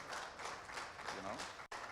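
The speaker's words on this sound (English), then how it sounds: "another round of applause for Dr. Daniels, even as he walks away" Faint, steady applause from a convention crowd, a continuous patter of many hands clapping, fairly distant, with a brief dropout near the end.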